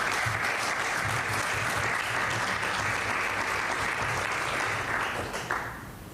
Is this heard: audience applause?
yes